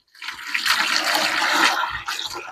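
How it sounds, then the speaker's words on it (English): Filtered water pours steadily into a bucket being filled for watering plants, a broad continuous rushing splash that starts abruptly and runs for a couple of seconds with a brief dip near the end. "now I'll get this bucket full."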